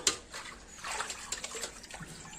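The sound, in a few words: washing raw chicken pieces in water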